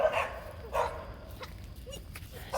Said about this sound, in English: Oh, this puppy